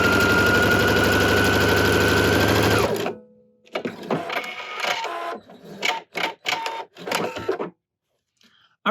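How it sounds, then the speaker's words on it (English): A PFAFF Performance Icon sewing machine runs a steady, fast mechanical whir for about three seconds before stopping, followed by softer clicks and handling noises with brief gaps of quiet. "so we're going to sew a stitch"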